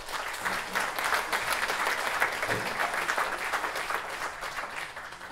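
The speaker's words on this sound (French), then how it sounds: "Donc vous pouvez l'applaudir." Dense audience applause fills a wooden theatre at a jazz festival, a steady wash of many hands clapping at moderate volume that holds throughout without a break.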